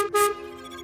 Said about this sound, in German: Das Wichtigste funktioniert schon mal, die Hupe.